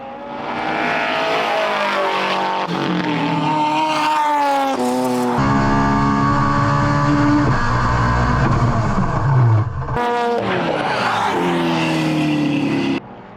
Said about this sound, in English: going up the Killick Hill, he moved back to the racing line where a fast-charging Calhoun Falcon was rapidly closing in